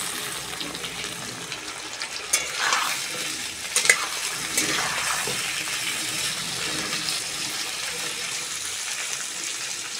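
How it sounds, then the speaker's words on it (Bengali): Long-cut potatoes frying with onions in a pan for a rupchanda fish curry, a continuous close sizzle with a few stirring scrapes and clatters. "পেঁয়াজের সঙ্গে আলুগুলোও ভেজে নেব।"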